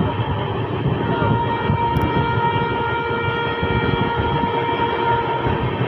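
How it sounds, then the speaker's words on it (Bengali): The Sealdah–Balurghat Express rumbles and rattles steadily at close range as it runs through Bidhannagar station without stopping, with a faint whining tone riding over the noise. "আমাদের ট্রেন এখন স্কিপ করছে বিধাননগর স্টেশন।"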